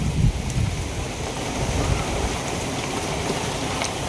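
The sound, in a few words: strong wind on a main road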